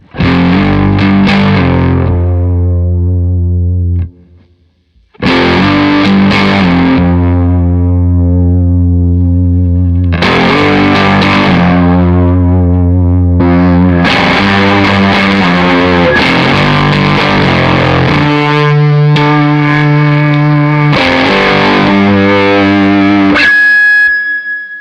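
An electric guitar on its middle humbucker position, played through a Pine-Box Customs Far pedal, gives loud, heavily distorted chords and riffs in sustained phrases with one short pause, no talking.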